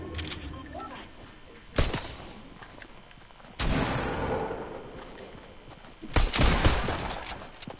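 Gunfire in the video game Fortnite during a duos match, with three sharp broadband bursts spaced a couple of seconds apart over a continuous game background, each followed by a brief noisy tail.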